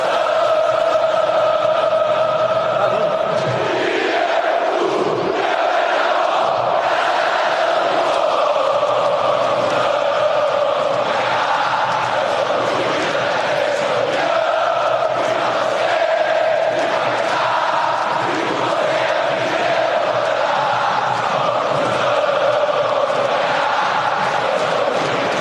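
Fluminense supporters at Maracanã stadium roar and chant in a massed crowd, a steady dense wall of voices with rising shouts, loud and continuous throughout.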